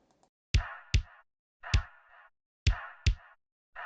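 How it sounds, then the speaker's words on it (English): A punchy kick-drum hit layered with a brassy, horn-like tone, repeating in a sparse rhythmic pattern with short silences between hits. "it's a bass drum combined with a trumpet sounding sound"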